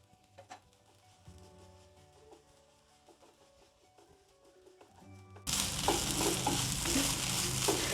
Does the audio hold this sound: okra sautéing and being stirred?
yes